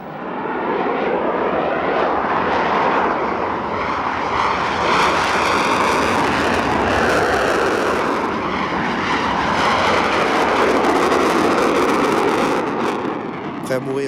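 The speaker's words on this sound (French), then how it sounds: "2 avions français et 2 avions roumains partent pour une mission conjointe." Several MiG-21 fighter jets, two French and two Romanian, fly out together on a joint mission, giving a loud, continuous broadband jet roar that holds steady for about fourteen seconds, with voices faintly present underneath.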